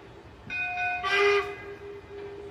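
A Lionel brass hybrid 4-4-0 model locomotive sounds a steady tonal whistle, with a brief ringing bell chime in the middle, close by with faint background hum.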